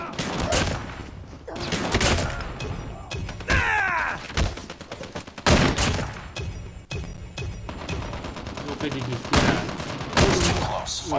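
Shotgun fire in Call of Duty Mobile, a series of sharp, loud blasts spread through the match amid other gameplay sounds and crashes, with a voice speaking now and then.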